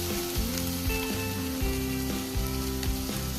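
Ground onion and tomato paste frying in a pan, a dense continuous sizzle and crackle with tonal background music playing over it throughout.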